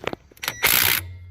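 Impact wrench driving a swivel socket on a car lug nut: a few clicks and clatters, then a short, loud burst of hammering whir lasting about half a second before cutting off.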